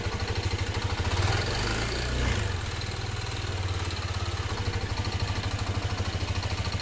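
A Yamaha Aerox scooter with an overheat warning idles steadily while warming up after coolant bleeding, its close, even engine note running continuously with a slight swell partway through and no talking.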